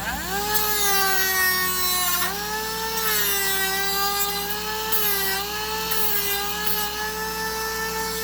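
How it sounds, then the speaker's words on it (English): A steady high-pitched whine from a rotary tool with a sanding drum running continuously, its pitch dipping slightly as it bears down on material, with no talking. "So here's a sanding drum on my rotary tool"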